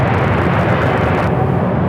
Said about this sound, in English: That United flight heading to Chicago here, flight 1748, a 737-900ER.